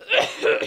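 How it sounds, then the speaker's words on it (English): A man doing a Batman impression gives a short, rasping cough, two quick throaty bursts close to the microphone. "I'm Batman, I get this terrible throat infection. It makes me cough."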